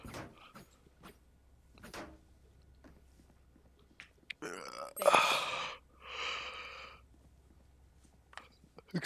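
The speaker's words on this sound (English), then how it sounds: "I'm just yawning" A single drawn-out human yawn, close and fairly loud, rising to a breathy peak and trailing off, set among quiet gaming room sounds and scattered small noises.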